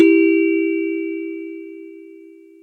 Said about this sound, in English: That's the doorbell, he's here.